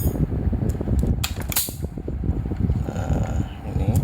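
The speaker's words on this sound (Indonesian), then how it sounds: "ini saya kasih kipas ini teman, biar nggak panas ini kamera di HP saya" Small electric fan running beside a phone camera while a symmetrical power supply circuit is fitted into a casing box, a steady low whir with scattered clicks and light handling knocks, close and fairly loud.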